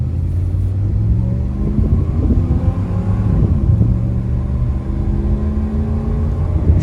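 A 1993 Chevrolet Caprice Wagon with a 5.7 V8 accelerating, a loud, steady low engine rumble with rising gear tones heard from inside the car, continuous throughout.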